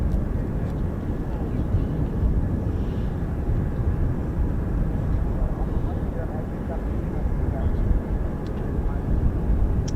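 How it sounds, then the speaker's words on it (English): A US Air Force KC-135 on final approach to RAF Mildenhall makes a steady, distant jet rumble, with people talking over it. "So our KC-135 just turning now in on final right now."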